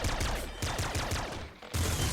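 Super Splinter Gun volleys in the Nuclear Throne video game, loud repeated bursts of crackling shots in pulsing groups with a brief pause before a final volley, no talking.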